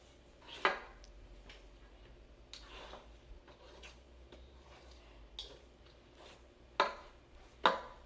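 Madeleine batter is mixed in a bowl, quiet scraping broken by a few sharp clinks of utensil against the bowl, close and isolated.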